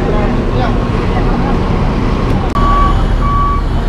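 Reversing beeps sound from an Indonesian NPM intercity bus backing up at a port, two short steady tones late in the clip over a loud idling engine and ambient rumble.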